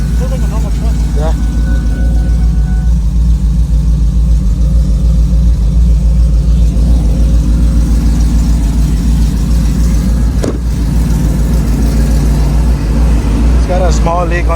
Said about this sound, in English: It's got a small leak on the exhaust.